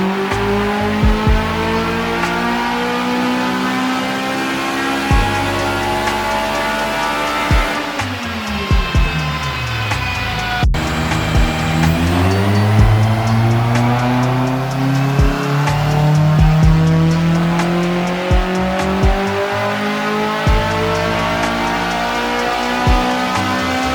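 A K20A-powered Honda Civic EG6 on an E40 flex-fuel tune revving hard through the gears, loud rising engine howl with sharp drops at shifts and a brief tire chirp, close and continuous.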